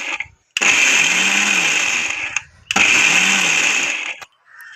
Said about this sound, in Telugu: వీటిని అయితే మిక్సీకి వేస్తున్నాను